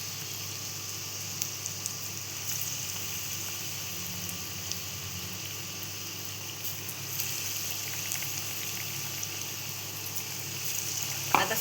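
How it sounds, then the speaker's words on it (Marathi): Alibag kadki bhaji fritters fry in hot oil with a constant dense sizzle and crackle, steady and close, ending with a small clink of a utensil. "आता सेम अशीच आपण ती फ्राय करून घेऊया."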